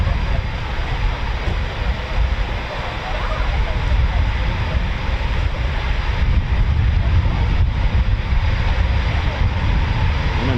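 A Eurofighter Typhoon FGR4 jet roars overhead at RAF Coningsby, a loud sustained broadband rush with wind buffeting the microphone throughout.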